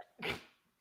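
A single sharp sneeze during a business-tips talk show, one loud burst that fades quickly, with no speech around it.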